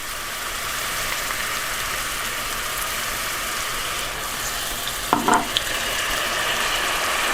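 Onions and maple syrup sizzling and being stirred in a hot pan, a steady loud frying hiss with a brief scrape of the utensil near the end, no talk.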